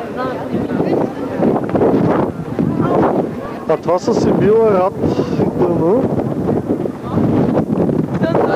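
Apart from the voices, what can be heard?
strong wind blowing on the camera microphone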